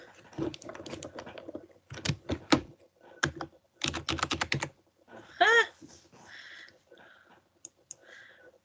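Quick bursts of clicking keystrokes on a computer keyboard come in several short runs, close and fairly quiet, with a brief higher chirping sound partway through.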